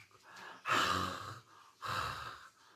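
A voice imitates snoring with two drawn-out, rasping breaths separated by a short pause.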